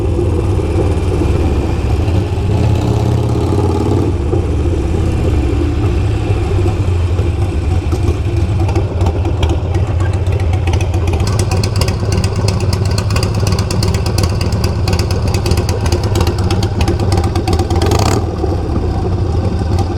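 A Harley-Davidson Low Rider S with a Kinetic Coil exhaust rumbles inside a parking garage, a deep, loud, echoing idle that builds into throttle blips and revving, with a sharp crackle near the end.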